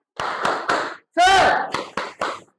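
A group clapping a rhythmic cheer: sharp synchronized claps in short patterned bursts, broken by a shouted voice in the middle.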